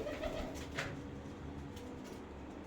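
Soft pigeon coos at a distance over a quiet outdoor background, a few low murmuring calls with faint chirps.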